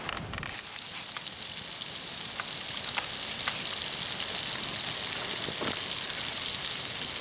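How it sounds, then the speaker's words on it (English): Shrimp and beef sear in a pan at a rainy Adirondack campsite, giving a steady, loud, dense sizzle that holds unbroken for the whole stretch with no talk over it. "Searing them right up good."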